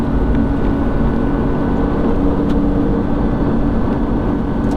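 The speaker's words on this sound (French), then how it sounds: "on commence quand même à pouvoir apprécier enfin le V12" Steady, loud engine drone from an Aston Martin DB7 V12 accelerating on the road, a dense continuous rumble heard from inside the car with no voices.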